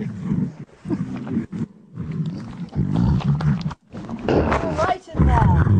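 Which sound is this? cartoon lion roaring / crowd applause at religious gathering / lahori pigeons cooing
cartoon lion roaring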